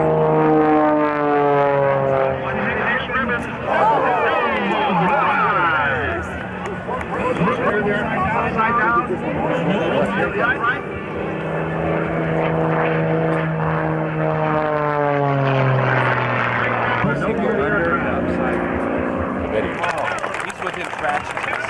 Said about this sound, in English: Big, heavy airplane.